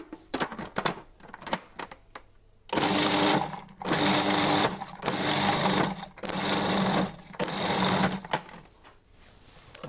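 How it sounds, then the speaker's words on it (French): A Magimix food processor pulse-mixes lemon sorbet in four loud whirring bursts of about a second each, with short clicks and rattles before the first burst and brief pauses between the pulses. "Et je vais mixer tout simplement en pulsion."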